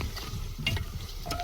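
Mutton biryani mixture stirred and sautéed in a pot over an outdoor fire in a village field, a brief close scrape of the spoon over a low steady sizzle.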